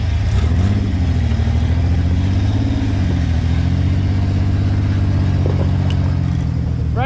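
A Ford Bronco's engine revs hard and steadily while it winches and pulls a stuck Jeep up a hill during an off-road recovery, a loud, close, continuous roar with shifting pitch and no talking.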